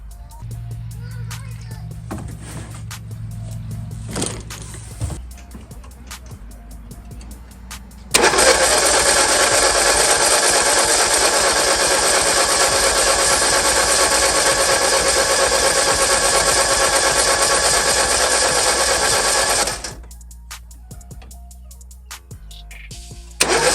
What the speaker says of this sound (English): I believe this thing is hesitating to start because the plugs are fouled